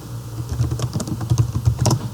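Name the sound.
typing on a computer keyboard into an Excel sheet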